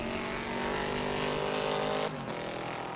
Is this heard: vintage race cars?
yes